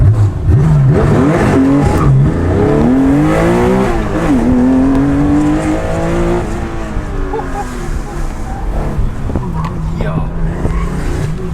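A Porsche sports car accelerates hard around a corner, its engine note loud and close, climbing and falling through gear changes, with people talking inside the car over the engine.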